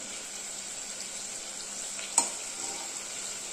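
Crushed small shallots, about six, frying in a pan: a steady close sizzle with one brief clink partway through, no voices.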